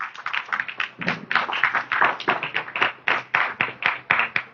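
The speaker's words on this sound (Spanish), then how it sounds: "si quiere dele un aplauso al Señor, fuerte" A church congregation in Southgate claps together in a steady, rhythmic beat, sharp close hand claps repeating evenly throughout with no voices over them.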